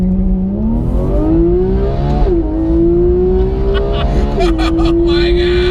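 A GT3 car launches hard and accelerates through the gears, its engine note climbing steadily with quick drops at each upshift, loud and close from inside the cabin.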